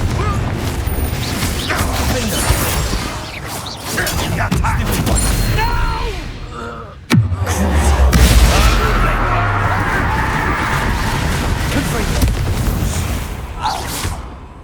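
A Confringo fire spell in Hogwarts Legacy bursts with a sharp crack and a heavy low boom midway, set within a dense battle din of rumbling and clashing, with occasional voices.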